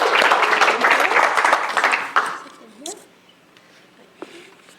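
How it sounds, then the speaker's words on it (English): Audience applause at a venture showcase, a dense burst of clapping that fades after about two seconds into a quiet room with a few stray sounds. "a round of applause for Scaling Resilient Finance"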